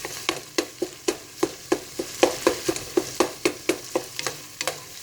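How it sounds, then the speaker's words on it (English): Sausage sizzles in a pan while a utensil stirs and chops it in a quick, even series of sharp scraping taps over a soft steady frying hiss, heard close with no talking. "the sausage is just about ready."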